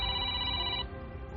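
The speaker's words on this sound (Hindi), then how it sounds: "आते ही उनका फोन बजा" Phone ringing in a quiet indoor lounge: a steady electronic ringtone of stacked tones sounds close and moderately loud, then cuts off abruptly near the end, leaving low background rumble.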